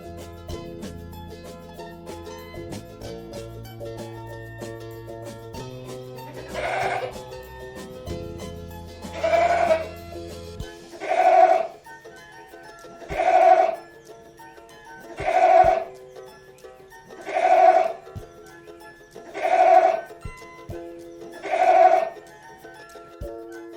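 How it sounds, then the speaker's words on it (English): A goat bleats about seven times at even intervals, each call clear and close, after a low, muffled backing sound that fades out around the first third. "goat माने बकरा"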